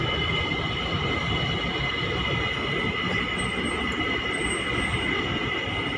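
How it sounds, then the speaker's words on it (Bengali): An elevated LRT train in Kuala Lumpur, Malaysia, rumbles past continuously with a steady roar and faint high wheel squeal, loud and sustained throughout. "এই যে কত সুন্দর উপর দিয়ে ট্রেন ট্রেন চলতেছে"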